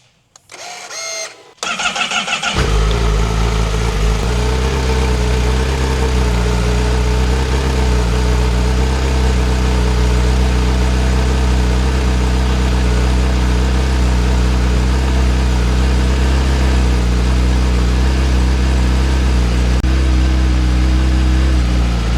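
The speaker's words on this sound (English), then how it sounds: "let's get over here and get a little sound check of this OEM exhaust system that we have on this bike" 2026 Honda CBR1000RR-R Fireblade on its stock OEM exhaust, starting up then idling loudly and steadily close by, with a deep even rumble.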